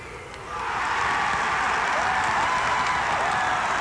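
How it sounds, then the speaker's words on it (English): Crowd roars and applauds in a high-school basketball gym after a two-shot foul is called late in a Loogootee vs Barr Reeve sectional game, swelling from a murmur into a loud sustained cheer with whistles. "The cheer that you hear"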